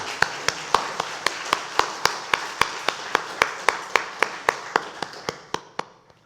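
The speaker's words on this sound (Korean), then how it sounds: "하나님께 영광의 박수 올려드립니다." Steady, evenly spaced claps ring out in unison at a brisk beat during a Sunday worship service at a Korean church, forming one clear rhythmic train that ends abruptly.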